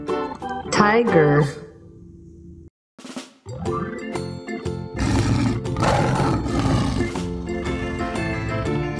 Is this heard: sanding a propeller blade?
no